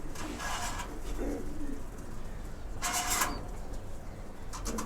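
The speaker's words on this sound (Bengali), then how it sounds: "এই যে লালপাতি 1 পেয়ার কবুতর" A pair of Lalpati pigeons coos close by in a few soft, rolling calls, with brief brighter rustling bursts between them and no voices.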